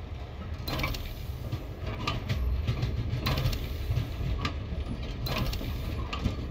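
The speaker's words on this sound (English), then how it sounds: "the sounds of the train on the tracks is really well done" The Warframe void train rolls along its tracks with a dense mechanical clatter, rhythmic ratcheting clanks and periodic metallic bursts over a low rumbling bed, steady and close throughout.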